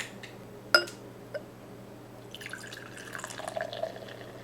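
Opening a glass bottle of Coors banquet beer: a sharp clink and a faint tap, then a soft fizzing hiss as the cap comes off, quiet and close.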